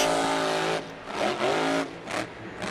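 At a Monster Jam freestyle run in Jacksonville, a monster truck engine roars and revs in loud surges that rise and dip as the truck is thrown around the arena.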